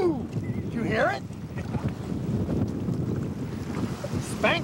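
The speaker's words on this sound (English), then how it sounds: "this has got to be 25 to 30 mile an hour winds" Strong gusty wind of about 25 to 30 mph blasting over a lake from a bass fishing boat on Lake St Clair, with heavy rumbling microphone buffeting and waves slapping, while people talk and exclaim.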